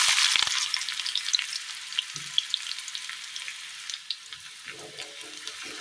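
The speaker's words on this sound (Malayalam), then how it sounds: "ചൂടായ എണ്ണയിലേക്ക് കടുകിട്ട് കൊടുക്കാം." Mustard seeds and chopped shallots fry in hot oil for a tomato curry, giving a close, steady sizzle broken by scattered pops and crackles and a few faint low knocks.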